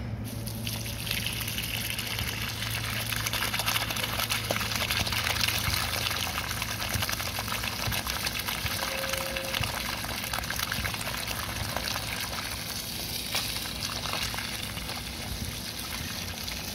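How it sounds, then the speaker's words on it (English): A carpet cleaner dumping its dirty water after a heavy pet urine job: a continuous gushing, splashing pour, steady and close for the whole stretch with no talk. "Final water dump."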